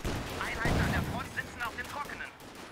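Gunfire in the World War II strategy game Company of Heroes 2, Ardennes campaign: a steady, dense battle din of shots and bursts running for about three seconds with a short heavier stretch partway through.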